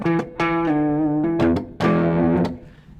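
Electric guitar driven through a Strymon drive pedal gives a blooming distorted tone, with a few sustained chords and notes swelling and ringing over about three seconds, loud and close with no talking.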